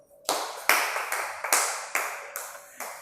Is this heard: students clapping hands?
yes